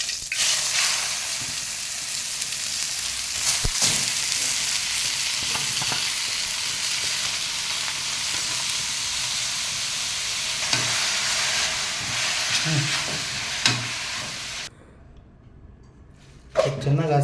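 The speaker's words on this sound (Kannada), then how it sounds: "ಚೆನ್ನಾಗಿ ಹಸಿ ವಾಸನೆ ಹೋಗೋವರೆಗೂ ಫ್ರೈ ಮಾಡ್ಕೊಳ್ಳಿ ತುಪ್ಪದಲ್ಲಿ" Ash gourd frying in hot ghee for kashi halwa, a steady bright sizzle that runs unbroken with occasional stirring knocks before cutting off near the end, then a brief scrape.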